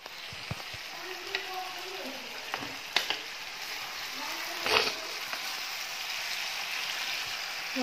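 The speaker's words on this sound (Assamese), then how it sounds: "চিকেনখিনি ফ্ৰাই হৈছে" Chicken pieces frying in a pan give a steady bright sizzle throughout, with occasional stirring clatters and scrapes and a light voice now and then in the background.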